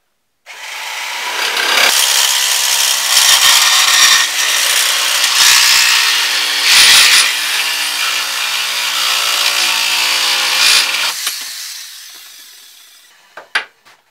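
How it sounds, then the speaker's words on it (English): A Sawzall reciprocating saw fitted with a hacksaw blade cuts through an aluminum bracket, a loud steady buzzing rasp running about ten seconds before winding down, followed by a couple of sharp clicks near the end. "use a Sawzall with a hacksaw blade in it"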